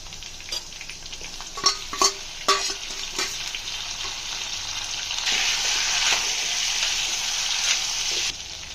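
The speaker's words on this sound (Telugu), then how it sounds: "పచ్చివాసన పోయేంత వరకు ఇలా ఆయిల్లో మగ్గించుకోవాలి." Drumsticks and cucumber fry in oil as a spoon stirs them, with a few clattering scrapes against the pan at first, then a steady, loud sizzle with no talking.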